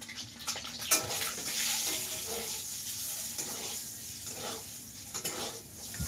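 Food sizzles in a hot wok while a utensil stirs and scrapes against the metal in uneven strokes, a soft continuous hiss with occasional clinks, heard close up and without talk.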